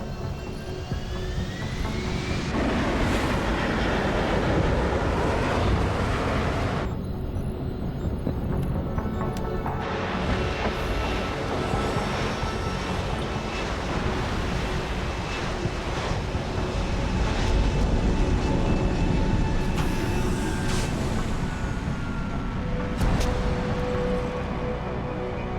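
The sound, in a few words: aircraft landing in Deus Ex: Human Revolution video game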